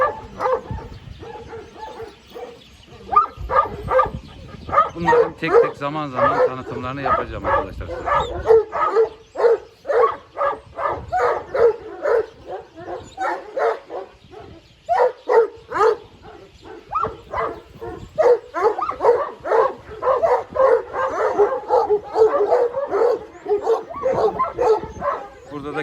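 Kangal shepherd dogs bark and yip repeatedly at close range in a loud, irregular series, with someone talking over much of the barking throughout.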